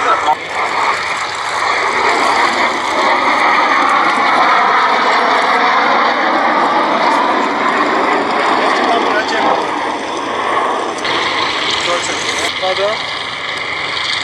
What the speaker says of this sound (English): It's also proved useful for the classic aircraft trust to have this two-seat dual control meteor on strength.